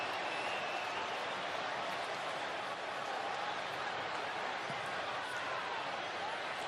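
A distant, roaring football stadium crowd at an NFL game between the Chargers and the Patriots reacts in a rainy setting, a steady broad wash of crowd noise without distinct peaks.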